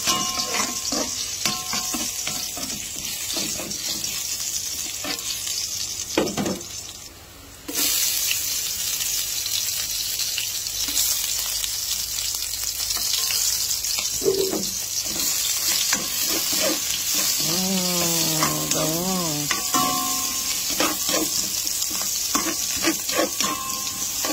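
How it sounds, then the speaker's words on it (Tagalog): Garlic fries in a pan just used for pork, giving a constant bright sizzle with occasional stirring clatter, a brief drop in the middle, and a short rising-falling tonal squeak near the end. "Fry natin garlic. From the same pan, ano?"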